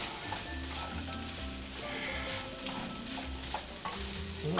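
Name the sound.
fried rice being stir-fried in oil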